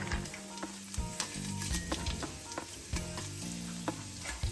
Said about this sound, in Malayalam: നമ്മൾ ആദ്യമായിട്ട് ഈ കറുവാപ്പട്ട, പിന്നെ ഗ്രാമ്പു, പിന്നെ ഏലക്ക, പെരിഞ്ജീരകം, ഇത്രയും നമ്മൾ അങ്ങോട്ട് ഇട്ട് കൊടുക്കുവാണ് ഓയിലിനകത്തോട്ട്